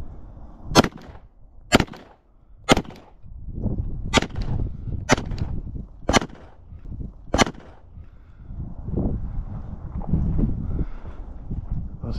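A Glock 17 Gen 4 pistol with a red dot on an RMR-cut slide fires at 10 yards, giving seven sharp, loud shots at irregular intervals of about one second, with outdoor wind rumble between them.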